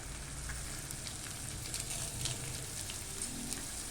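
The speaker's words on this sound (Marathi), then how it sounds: "आता आपण ना थोडं थोडं असं ना डिंक टाकून तळून घेऊया" Pieces of edible gum drop into hot ghee and fry with a soft, steady crackle and hiss, faint and close, with small pops scattered through and no talking.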